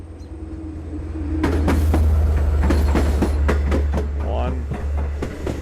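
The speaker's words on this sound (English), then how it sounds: "Here comes the train itself" A Long Island Rail Road diesel train, engine 400 with extra cars added, arrives at Speonk station with a steady low engine rumble and a series of rhythmic wheel clacks as cars pass close by.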